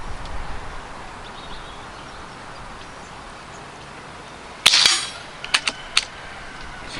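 Airgun shots from an FX Biathlon fired at targets, a sharp crack followed by a few quick, lighter snaps close by in a quiet outdoor setting.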